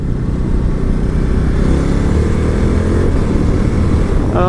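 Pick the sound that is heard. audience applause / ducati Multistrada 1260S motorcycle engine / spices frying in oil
ducati Multistrada 1260S motorcycle engine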